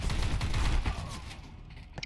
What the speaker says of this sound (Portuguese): Eu vou meter o tiro no cara que tá na cabecinha